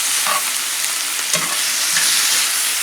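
Leftovers being heated through on a skillet, giving a loud, continuous sizzle and fry close by with a few scraping stir sounds.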